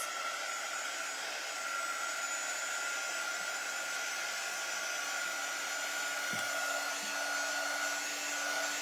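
A hair dryer blows steadily and evenly at moderate volume while drying a transfer on a small craft sled, a continuous airy roar with a faint knock partway through and no voices.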